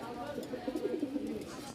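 Soft, low pigeon cooing rolls along in a continuous murmur, close by, with faint background clatter.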